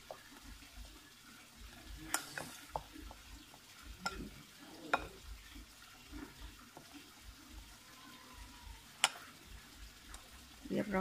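Silkworm pupa larb salad with sliced shallots, coriander and cumin being gently tossed in a bowl in a Thai home kitchen, soft repeated stirring and light scraping knocks, fairly quiet.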